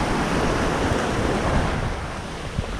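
Ocean surf washes continuously onto a rocky beach on La Gomera, a dense, loud roar of breaking waves mixed with wind buffeting the microphone.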